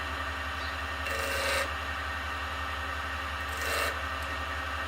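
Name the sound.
wood lathe spinning at 1400 RPM while marking lines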